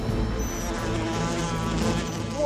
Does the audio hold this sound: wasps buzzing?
yes